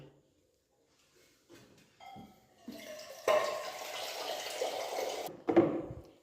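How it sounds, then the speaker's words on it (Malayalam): More water being poured into mutton in a cooking pot, beginning with a few faint knocks and clinks, then a steady, close rushing pour lasting about two seconds that ends in a final splash. "കുറച്ചും കൂടി വെള്ളം ഒഴിക്കട്ടെ കേട്ടോ."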